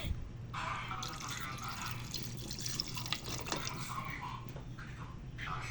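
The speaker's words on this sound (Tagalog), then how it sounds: "Lagyan natin tubig." Water splashes and pours into a cooking pot in uneven bursts, close by, with a faint background hum.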